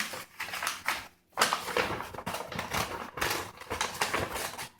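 Scissors snipping through a paper template for a buffalo hide painting lesson, a close run of crisp, irregular cutting strokes with short pauses between bursts.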